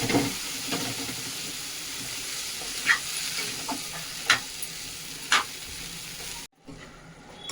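Boiled chickpeas sizzle and hiss in a pan of fried masala for a chana usal, with a few sharp scraping stirs of a spoon over the steady frying before a brief cut.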